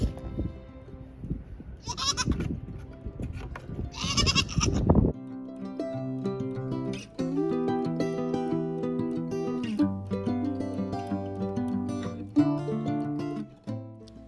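Pregnant goats on a small farm bleat loudly several times close by over the first few seconds, then tonal music with sustained notes carries on alone.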